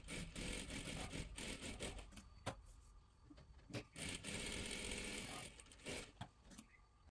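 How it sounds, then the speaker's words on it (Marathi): Sewing machine stitching a double seam on a dress, a rapid steady run of mechanical stitching chatter that drops out briefly a few times between bursts, heard close and alone. "एका बाजूने इथे आपल्याला डबल शिलाई मारून घ्यायची आहे"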